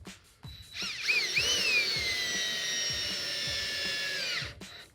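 A power drill drives screws into the flange of a Delta Hycroft alcove tub, its steady whine rising and dipping in pitch for about four seconds, close and loud, with brief pauses at either end.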